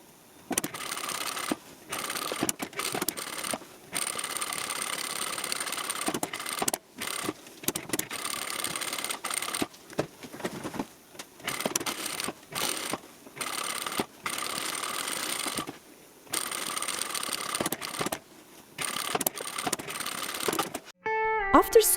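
A home sewing machine stitches around the curved top edge of a fabric drawstring bag in repeated runs of steady mechanical whirring, close and moderately loud, with brief pauses between bursts and a short clatter at the very end.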